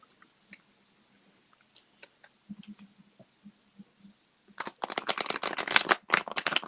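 A deck of tarot cards is shuffled: soft scattered taps and light handling at first, then a dense, loud burst of rapid riffling clicks over the final two seconds, with no talking.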